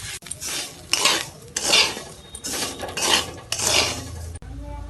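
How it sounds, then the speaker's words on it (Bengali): Roasted semolina tipped into fried vegetables in a cooking pan, with repeated loud scraping and clattering of a metal spoon against the pan in a steady stirring rhythm, close and without talk. "সবজিগুলোর মধ্যেই দিয়ে দিচ্ছি ভেজে নেওয়া সুজিগুলোকে"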